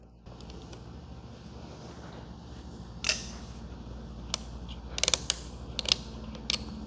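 Hex key loosening bolts on a Kawasaki Ninja 1100 SX clutch assembly: quiet close-up metallic clicks and ratcheting creaks, a few sharp ticks clustered in the second half over a faint low background hum.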